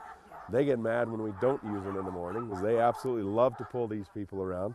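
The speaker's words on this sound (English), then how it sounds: "The dogs, you can hear them in the background, they're barking." Sled dogs barking and yipping in the background, faint and scattered beneath someone talking loudly throughout.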